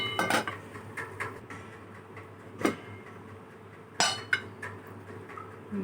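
Metal utensils clink and scrape against a pan and dishes as a cooked egg and potato breakfast is served, with scattered sharp taps and a few louder knocks over quiet kitchen background.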